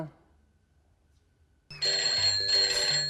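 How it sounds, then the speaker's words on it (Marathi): Telephone ringing in a comedy-serial scene, a steady electronic ring tone that starts abruptly after near silence and continues loud and alone. "केव्हाचा हा फोन वाजतोय"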